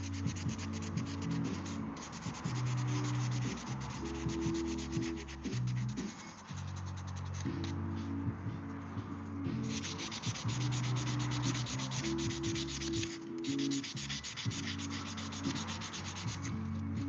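Wenge hardwood, a dark brown timber, being power-sanded in a workshop making cutting boards: a steady, rasping abrasive drone that runs continuously and loud, with brief shifts in pitch and pressure as the sander moves across the surface.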